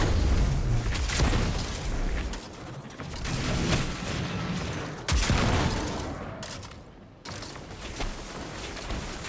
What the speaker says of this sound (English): use a grenade on this chieftain